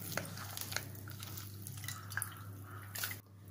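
Liquid drips and trickles from ground kokum and coconut paste pressed through a strainer, with soft intermittent drops and a steady low hum in the background, no talking.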